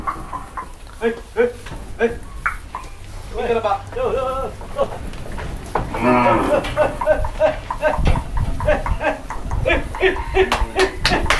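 Young female cattle, a herd of heifers destined for a longan orchard in Chiang Mai, moo repeatedly and loudly at close range, several calls overlapping, while people talk in the background.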